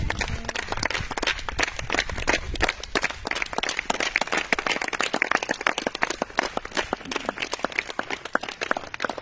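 A church congregation applauding, dense sustained clapping from many hands that holds steady and loud from start to finish, with no voices over it.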